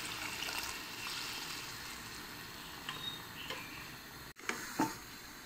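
Water is poured onto red kidney beans (rajma) with cumin powder in a kitchen pot: a faint, steady trickle over background hiss, with a couple of small clinks near the end.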